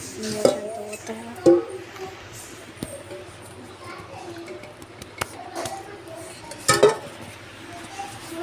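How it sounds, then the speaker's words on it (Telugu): A spoon stirs milk in a dish, giving a few sharp clinks and scrapes against the bowl spaced through the clip, with talking and a voice nearby. "మళ్ళీ ఆ స్పూన్ తీసుకోవాలి. ఇది కలపాలి."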